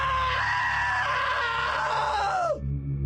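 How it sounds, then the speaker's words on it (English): A long, loud scream in the video game What Remains of Edith Finch, one sustained strained cry holding steady for over two seconds before dropping off sharply into quiet, with no talk over it. "Now that was a great scream."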